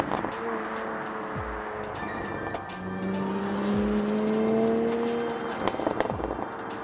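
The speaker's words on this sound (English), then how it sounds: "Every hard acceleration is treated with a brutal snort, and every time you lift, you're treated with machine gun fire." A 2020 Toyota GR Supra in sport mode with its active exhaust roaring through hard acceleration, then crackling and popping in rapid bursts on lift-off, heard at a moderate distance with no speech.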